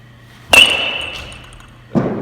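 A sharp impact of a baseball striking the top of a net, with a ringing metallic tone that fades, followed by a second thud near the end.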